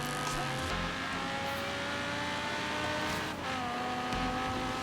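A race car engine in the video game Forza Horizon 3 roars and revs steadily, with rising and falling pitch as gears shift, loud and continuous with a brief dip before surging again.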